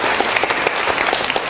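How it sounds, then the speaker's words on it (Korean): Students at an outdoor lecture on a cold day applaud together, a dense, loud, continuous clatter of many hands. "추운데 박수라도 좀 치시죠."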